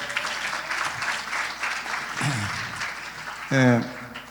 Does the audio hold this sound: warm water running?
no